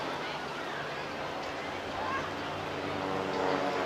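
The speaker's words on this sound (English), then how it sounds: "Now you can hear as they pull up the roar of that 180 horsepower engine" Propeller engine drone of Team Raven display aircraft with 180 horsepower engines pulling up at a beach airshow, a steady broad roar heard from a distance and swelling slightly toward the end, with crowd and wind noise beneath.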